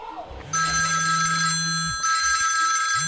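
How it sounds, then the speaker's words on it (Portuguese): A telephone rings loudly and close, two bright electronic trilling bursts in quick succession, heard over a low musical drone at a live forró show. "Pera aí, velho, deixa eu atender aqui o telefone, velho."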